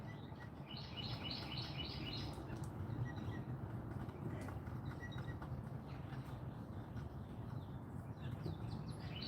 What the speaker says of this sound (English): My bird's even sing in the rain, yeah.